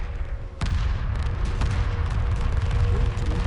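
Rapid missile launches and blasts from Homeworld space combat: a sharp burst near the start, then a dense, rumbling barrage of fire and booms that continues loudly throughout.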